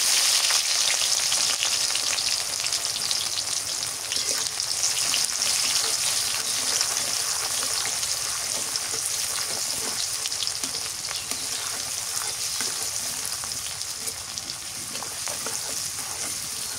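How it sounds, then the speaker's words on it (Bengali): Onion and garlic frying in mustard oil, a loud continuous close sizzle holding steady throughout, with faint stirring beneath. "পেঁয়াজ রসুন দিয়ে দিলাম।"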